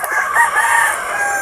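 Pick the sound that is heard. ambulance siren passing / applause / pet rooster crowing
pet rooster crowing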